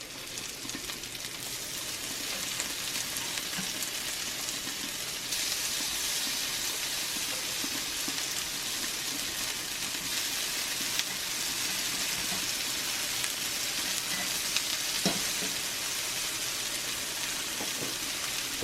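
Irish soda bread frying in a cast iron pan, a steady close sizzle with fine crackle running unbroken throughout, no talk over it.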